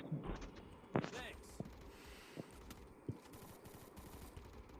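Gunfire in the Free Fire video game, including an M24 sniper rifle: a few sharp, separate shots spaced across the stretch, fairly faint, mixed with quiet game sounds and background chatter.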